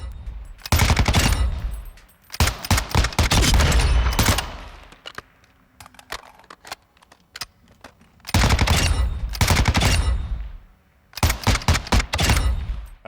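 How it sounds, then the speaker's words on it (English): Loud, close bursts of automatic fire from the RM277 rifle in Call of Duty Modern Warfare II, four separate sustained volleys with quiet gaps and lighter mechanical clicks between them. "So here's the RM277. Go ahead and let this thing rip."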